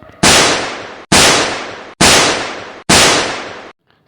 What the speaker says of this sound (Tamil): இங்கே அப்படியே பட்டானா புல்லட் சத்தமாக கேட்குது